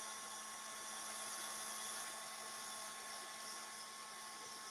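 A hair dryer blows on varnished clay pieces, a constant high whirring hum, close and unbroken from start to end, with no talk.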